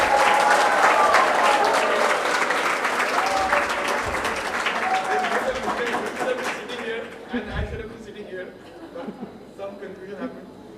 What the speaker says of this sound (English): Let's clap as Zaidi sir felicitates Aryan.